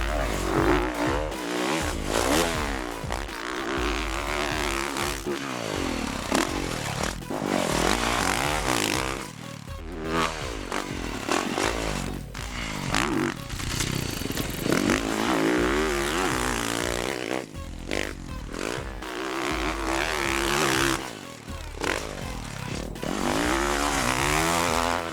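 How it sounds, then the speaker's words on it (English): A 2013 Yamaha YZ450F motocross bike being ridden, its engine loud and close with continuous revving that rises and falls and briefly drops off between throttle bursts, and no speech. "And this week we're going to be testing the 2013 YZ450F."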